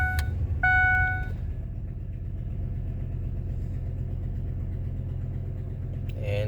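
A 2005 Ford F-150 engine cranks briefly with a chime sounding, then catches and settles into a steady, low rumbling idle that stays even and loud to the end.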